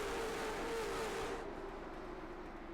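Dirt track race cars take the green flag at the Las Vegas Bullring. A faint, distant wash of engine roar carries a sustained tone, and its brighter edge drops away after about a second and a half.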